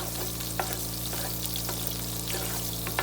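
Oil and butter sizzle in a hot pan heating up to sear steak, a steady close frying hiss with occasional louder spits and pops, no talking.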